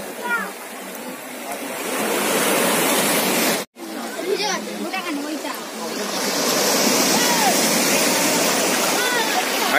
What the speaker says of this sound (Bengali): বড় বড় ঢেউ আছে একদম পায়ের ধারে চলে এলো এটা